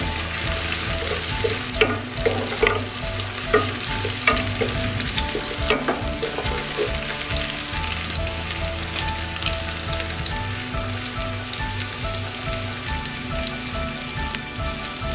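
Onions frying in a pan for bhuna khichuri, with a loud, continuous close sizzle and scattered pops and crackles, plus occasional stirring clinks throughout, no voices.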